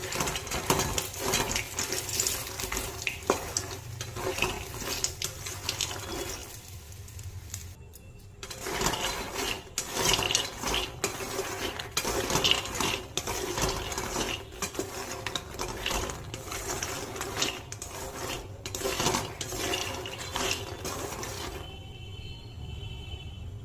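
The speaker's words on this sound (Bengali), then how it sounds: "সেজন্য মাখনাটাকে প্রথমে একটু ভেজে নেব ঘিয়ে।" Makhana (fox nuts) fry in ghee in a pan, giving a continuous crackling sizzle broken by frequent scraping, clattering stirs. Close and fairly steady, with no talk.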